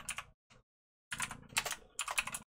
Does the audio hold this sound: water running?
no